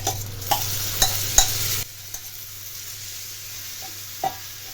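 Boiled bodakakarakaya (spiny gourd) pieces go into a hot pan for a curry and are stirred, giving a few near clattering taps over a soft sizzle that later fades to a quiet, steady fry with an occasional scrape.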